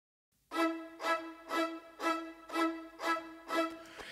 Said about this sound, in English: And together, all the strings sound like this.